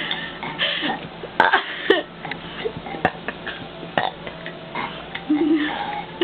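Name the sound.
puppy burping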